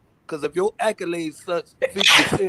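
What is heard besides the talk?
sneeze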